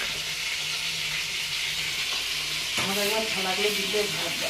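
Steady, loud sizzling of egg fritters frying in oil in a pan, a dense hiss throughout with a voice speaking over it toward the end.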